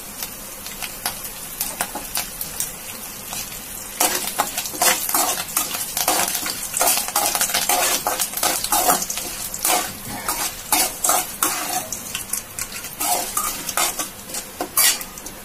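Curry leaves crackle loudly in hot oil while a spoon stirs and clatters against the pan, a dense run of sputtering bursts that grows busier and louder after the first few seconds.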